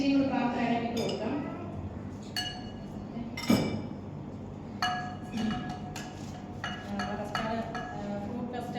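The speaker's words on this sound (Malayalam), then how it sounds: "സ്പൂൺ കൊണ്ടാണ് ഞാൻ ഇളക്കി കൊണ്ടിരിക്കുന്നത്" A spoon clinks against a pan while stirring fruit custard on the stove: a series of light, close metallic taps and scrapes at an uneven rhythm, with someone talking over them.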